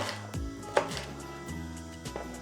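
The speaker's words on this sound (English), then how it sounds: "just chop these up so we can get them nicely cooking off" A knife chops vegetables for paprika potatoes on a board, several distinct, close, fairly quiet strokes at an irregular pace, no talking.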